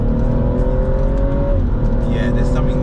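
A BMW M135i idles loudly with a persistent harsh rattle and a steady engine drone that shifts pitch slightly partway through, while someone talks over it.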